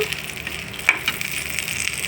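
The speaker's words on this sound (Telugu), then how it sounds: "ఇప్పుడు తాలింపు అయితే వేసేసుకుందాం." Hot tempering sizzles steadily as it is poured into ivy gourd chutney, a close, fine crackling hiss lasting about two seconds with a small pop midway.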